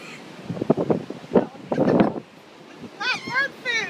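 Birds cawing and squawking harshly in a short burst near the end, close by while being hand-fed, following a stretch of loud talking and rustling.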